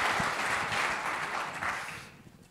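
An audience applauds at a formal event. The clapping is a dense, fairly distant wash that fades out in the last half second.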